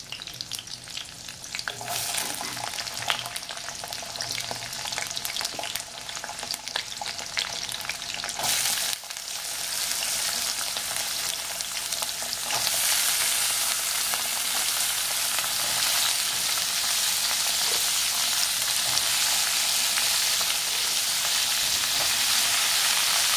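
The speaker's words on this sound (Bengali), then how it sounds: "এমনি কাঁচা লঙ্কার আর কালো জিরে ফোড়ন দিয়ে মিষ্টি কুমড়োটা করবো।" Pumpkin frying in a pan with green chillies and nigella seeds, a loud continuous sizzle and crackle with stirring clatter, growing brighter and more intense partway through, no talk.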